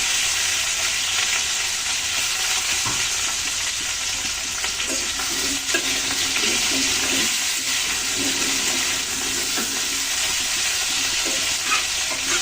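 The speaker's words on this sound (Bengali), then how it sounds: "লাল লাল করে ভেজে নেব তরকারি" Vegetables such as cauliflower and potato frying in hot soybean oil, a loud, dense, unbroken sizzle with occasional stirring scrapes throughout.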